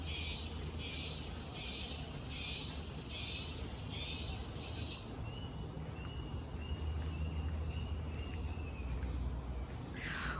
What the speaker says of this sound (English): And now that we can hear the cicadas.